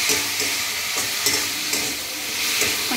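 Black and white mustard paste fries in a pan with a steady sizzle, while scraping strokes from stirring come through in a loose rhythm close by.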